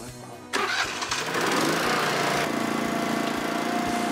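Small engine of a post hole digger starting up, a sudden catch into a loud, steady rumbling idle that keeps running close by.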